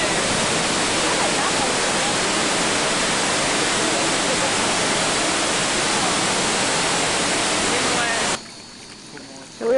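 River water rushes loudly and steadily along a jungle stretch in Argentina, a dense broadband roar that fills the scene before cutting away abruptly near the end.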